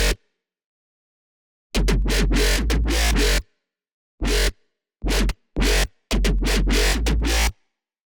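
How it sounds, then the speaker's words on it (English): Main bass sound of a dubstep remix drop, built from resampled sub and mid-range wave files, heard alone as loud, gritty bursts of varying length separated by silent gaps. "So the main bass sound that you're hearing is this one."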